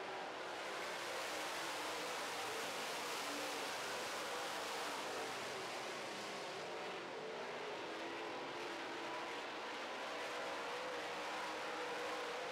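Late model stock cars race on a dirt oval in a feature event, their engines blending into a steady, broad roar that holds at an even level throughout, with no distinct passes standing out.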